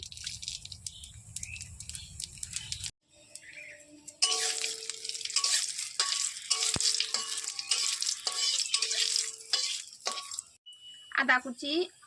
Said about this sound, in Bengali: সর্ষের তেল দিয়ে দেবো। শুকনো লঙ্কা তেজপাতা দিয়ে দেবো। দেবো 5 ফোড়ন।